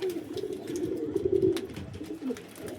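A wild pigeon coos softly nearby, a few low throaty rolling calls rising and falling, with faint background ticks and no talking.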